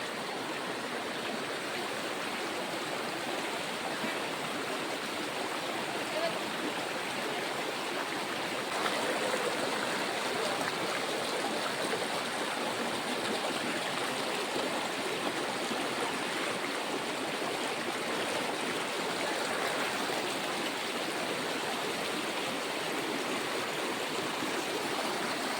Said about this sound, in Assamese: দেখিছেনে ইমান ঢৌ খেলি আছে